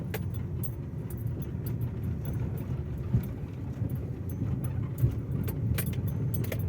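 Car driving along a forest road toward Anantagiri forest, with rough, potholed patches: a steady low engine and road rumble with light rattles and a couple of bumps, heard from inside.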